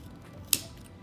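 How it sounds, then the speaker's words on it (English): One crisp snip of sharp scissors trimming a candle wick during handmade scented candle making, a single close click against a quiet background. "there's something so satisfying about this especially when my scissors are nice and sharp."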